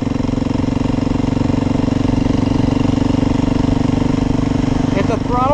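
A 2021 Beta 430 RR-S motorcycle engine runs at a steady, loud, close drone with a strong even pulse. A brief voice-like sound breaks in near the end.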